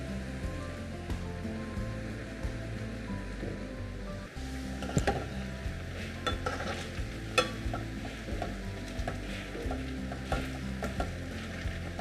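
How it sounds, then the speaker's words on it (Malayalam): Marinated cauliflower for gobi manchurian deep-fries in hot oil, a continuous close bubbling sizzle with scattered sharp crackles and pops, quiet and steady without talk. "നമുക്കിത് 2 ബാച്ചായിട്ട് വറുത്തെടുക്കാം."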